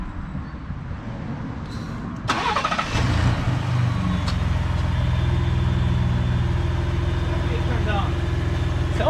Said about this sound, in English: So let me turn the truck on.